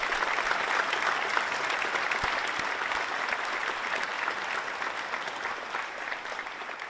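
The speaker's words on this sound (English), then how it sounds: "I'd like to give the family and friends of the recruits here today a round of applause" Steady applause from a crowd at a police academy graduation, a dense wash of clapping that holds at an even level throughout with no voices standing out.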